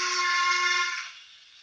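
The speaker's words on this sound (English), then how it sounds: "Oh, that's a longer whistle," A Zimo MX658 sound decoder in a Graham Farish Stanier 8F model steam locomotive sounds a long, bright steam whistle that holds steady, then fades out.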